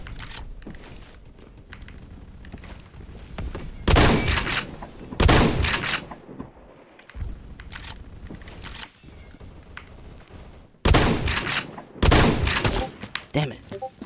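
Gunfire bursts from the video game Phantom Forces, coming as several loud, clustered volleys of shots and thuds with quieter stretches of background noise between them, while a voice speaks at times.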